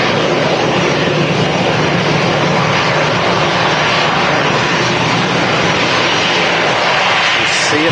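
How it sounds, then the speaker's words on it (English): An EasyJet airliner taxis at Manchester Airport, its engines giving a loud, continuous broadband roar that holds steady throughout, heard from nearby. "We've got this EasyJet taxiing in front of us."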